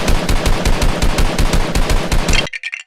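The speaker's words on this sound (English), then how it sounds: "let's try shooting the glued house with this Nerf gun" A Nerf blaster fires at a glued Lego house in a rapid, evenly spaced stream of loud, close shots that stops suddenly near the end, followed by a few faint clatters.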